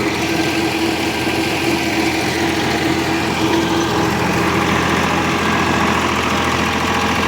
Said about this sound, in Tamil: சைலன்சர் வாசர் ஒன்று போயிடுச்சாட்டாக்குது அதனால் லைட்டாக கிடி கிடி கிடி கிடி